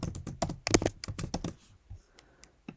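Fingers type a password on a computer keyboard in a quick burst of close, crisp key clicks, then a few scattered taps after a pause.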